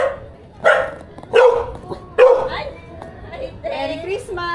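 Several loud, close dog barks spaced about a second apart, mixed with whimpers and yips, as people talk nearby.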